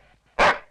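A single loud, close dog bark rings out sharply after a brief quiet pause, with no talking around it.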